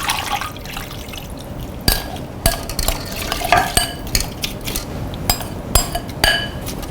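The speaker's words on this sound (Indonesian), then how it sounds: "Lalu si bumbu marinasinya kita masukin semua ke dalam presto" Wet marinade spices for soft-boned grilled chicken get scraped and poured into a pressure cooker, with sharp clinks and taps of a utensil against the metal pot over soft sloshing and stirring.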